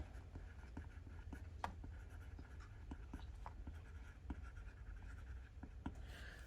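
A stylus writes on a tablet screen in a digital journal, giving a quiet string of soft taps and short scratchy strokes in an irregular rhythm, close up, with no talk.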